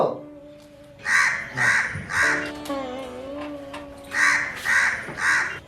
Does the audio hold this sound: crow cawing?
yes